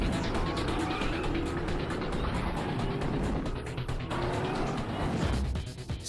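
The Batman Tumbler, a heavy armoured film vehicle, roars past with a loud, continuous engine and tyre rumble that fills the whole stretch and fades slightly at the end.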